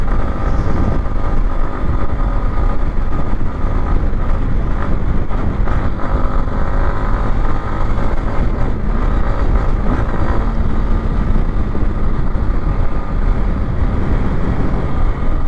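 Yamaha MT-15 motorcycle engine running while riding, a steady loud drone mixed with heavy wind buffeting against the microphone, continuous with no pauses.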